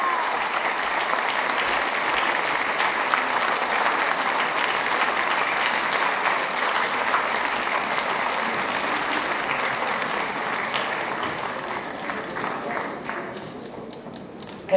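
Sustained audience applause at a GERB party campaign opening rally in Bansko, a steady dense clapping from a large crowd that holds for about fourteen seconds before thinning slightly at the end.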